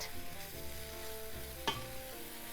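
Squid and vegetables in buttery soy sauce stir-fry in a pan with a steady, moderate sizzle and a single sharper clatter of utensil against pan partway through, with no talking.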